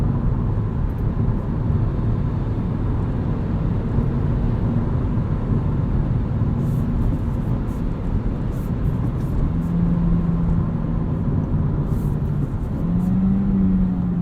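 A new Honda Civic Si engine revs while driving, a loud, steady, broadband drone that fills the whole stretch with slight pitch shifts as the revs climb.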